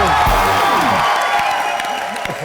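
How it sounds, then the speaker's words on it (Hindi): Studio audience on the Indian TV comedy show Comedy Nights Live breaking into loud, dense applause mixed with cheering and whoops, a full crowd clapping close and steady before it eases slightly. "जोरदार तालियां हो जाए।"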